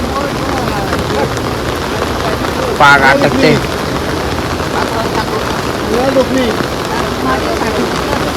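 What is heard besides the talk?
heavy rain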